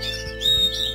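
A canary chirps in a breeding room, a few quick bright tweets and short trills close by, alone with no talking.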